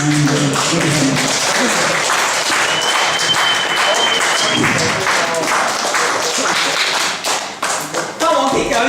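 Applause from a comedy club audience at the end of a stand-up set, loud and sustained with many hands clapping close together, fading briefly near the end before surging again, with some voices mixed in.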